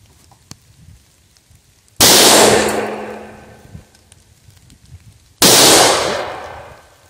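Two loud, sharp gunshots ring out a few seconds apart at a shooting match, each followed by a metallic clang and ringing decay from steel barrel targets.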